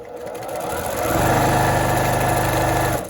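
A Brother PQ 1500 SL sewing machine stitching a quarter-inch seam on a quilt border, starting up and running in a fast, steady mechanical whir with rapid needle rhythm, close and loud.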